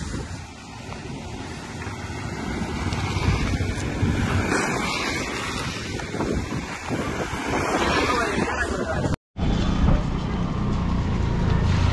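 A monsoon waterfall near Lonavala roars as a loud, continuous rush of falling water, mixed with wind buffeting the microphone, with a brief dropout near the end.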